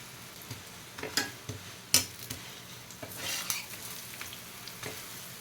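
Thalipeeth, a flattened flatbread dough, fries in oil on a hot tava with a soft, steady sizzle, broken by several sharp scrapes and taps of a spatula or spoon pressing and turning it, close by with no voices.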